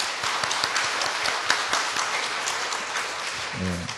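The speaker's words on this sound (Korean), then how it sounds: "우리 모든 교육자분들과 우리 교사님들과 팀장들께 우리 박수로 한번 격려하겠습니다" A church congregation claps to encourage its educators, teachers and team leaders, a steady, moderately loud wash of applause with some sharper individual claps standing out.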